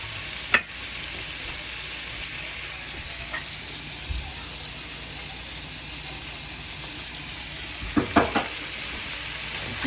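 Food sizzles steadily in a hot pan, a constant frying hiss broken by a few sharp scraping clacks of a utensil as it is stirred, close and fairly loud with no talking.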